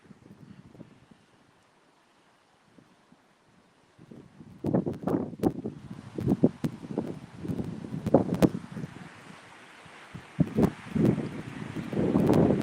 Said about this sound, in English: Wind is starting to pick up a bit